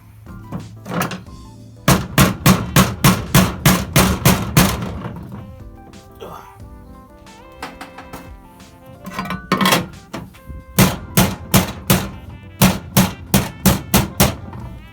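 Rapid bursts of sharp hammer blows pressing a seal into an LS1 engine, in quick regular runs, loud and close, with pauses between series and some speech in the gaps.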